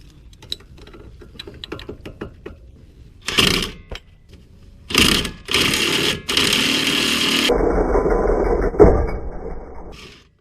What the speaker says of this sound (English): I'm using this ball joint puller. Once you clamp it around,